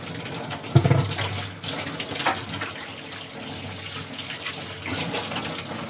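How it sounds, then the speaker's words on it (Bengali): Tap water runs steadily over a kitchen item being washed in a sink, a continuous close splashing hiss with a sharper knock near the start and no talking. "আচ্ছা, এবার এটাকে আমি ভালোভাবে ওয়াশ করবো।"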